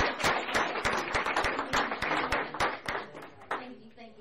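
Hearty audience applause fills a school board of education meeting in Granville County, with dense, steady clapping that thins out near the end as a voice begins.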